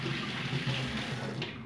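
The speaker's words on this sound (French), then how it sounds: "Je me lave les mains." Tap water runs steadily into a sink while hands are washed beneath it, a continuous close splashing rush with slight shifts as the hands move through the stream, no voices.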